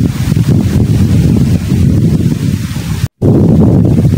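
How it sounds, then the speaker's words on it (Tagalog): Loud, blustery wind at a lake roars and buffets the microphone continuously, briefly cutting out before resuming, with no talking. "So lakas ng hangin mga kamix, grabe."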